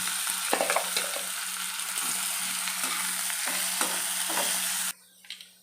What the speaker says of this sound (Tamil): ரெண்டு பெரிய வெங்காயம் சாப் பண்ணி வச்சுருக்கேன் அது போடுறேன்